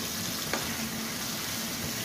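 Chillies fry in hot oil with a dense, loud, unbroken sizzle that fills the whole moment, with one brief tap near the start.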